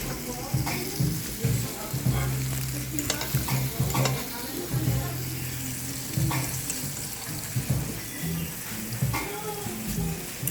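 Steak frying in a pan crackles with a loud, continuous sizzle, joined by intermittent scraping and handling noises and a low hum, with brief talk in the background.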